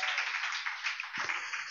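A congregation at a church prayer service claps hands in praise, a dense, steady wash of many hands clapping together, fairly loud and continuous throughout.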